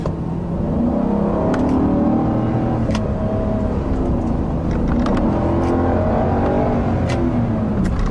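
A 2015 Kia K900 sedan accelerating under throttle, its engine note rising and shifting smoothly with steady road and wind roar, loud and continuous from inside the car.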